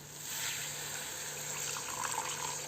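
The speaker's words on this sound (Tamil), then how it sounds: "இப்போ தண்ணி ஆட் பண்ணிக்கலாம்" Water being added to a Tamil-style glass fish curry with raw mango, a steady soft pouring and splashing sound, close and continuous with no voices.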